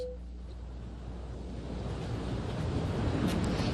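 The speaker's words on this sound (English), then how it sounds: "this water continues to rush in" Floodwater rushes steadily into a flooded residential area, a continuous broad roar mixed with wind buffeting the microphone, slowly growing louder.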